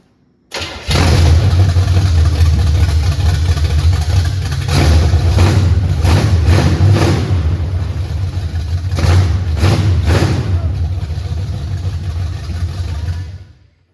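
An old project car engine, dormant for four years, cranks and catches, then runs loudly with a steady low rumble and several revving swells before cutting off, with no talk over it.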